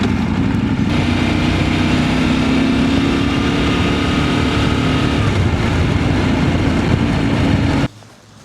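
Motorcycle engine idling steadily and loud at a roadside stop in Utrecht during a motocamping trip, a continuous low rumble that cuts off abruptly near the end.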